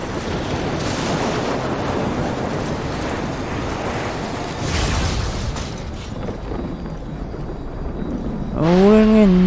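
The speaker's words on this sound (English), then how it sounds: "Rolling in the water against the current, I can barely hold on." Rushing river water surges continuously in the video game Death Stranding as a character is dragged against the current during a storm. A loud, roaring wash ends with a brief voice.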